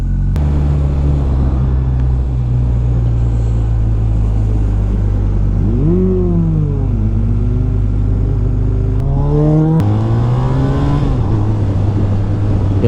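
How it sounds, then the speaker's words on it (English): BMW R1250R boxer-twin motorcycle engine running loud and close, with a steady low rumble that rises in pitch as the throttle opens, then climbs again through another surge of acceleration under wind noise. "when you open the throttle on this bike, it really pulls"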